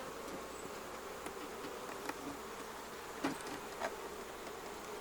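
Honeybees hum in an open hive, a steady, close, even drone with a few sharper passing buzzes and small clicks over the top.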